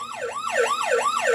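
A wailing emergency siren, rising and falling in a steady repeating sweep about three times, loud and close with no talking over it.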